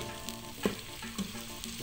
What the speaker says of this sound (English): my onions are frying